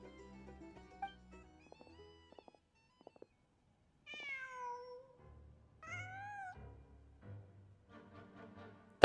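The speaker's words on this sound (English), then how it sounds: "Just a cat." A cat meows several times in a row inside the video game Genshin Impact, clear plaintive calls rising and falling over quiet soft game music, with no talking.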